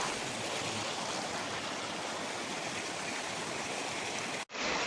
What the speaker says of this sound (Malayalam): കാണുമ്പോൾ വലിയ ഒഴുക്ക് പോലെ തോന്നുമെങ്കിലും അത്രയ്ക്ക് വലിയ ഒഴുക്കൊന്നുമില്ല